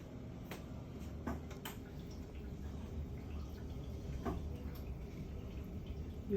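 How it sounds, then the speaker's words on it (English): Water purging from a line during an automatic purge cycle, with a faint, steady trickle and flow plus occasional soft drips and ticks at a low level. "It's normal that you hear water flowing out from the line."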